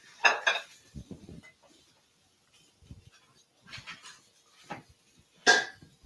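Silverware and dishes clinking at a home dinner table, a few scattered bright clatters and taps with quiet gaps between, close by and moderately soft.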